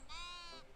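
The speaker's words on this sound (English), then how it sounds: "Pet the sheep." A single short sheep bleat sounds as a sheep is petted in the video game Tiny Glade, clear and close, lasting under a second.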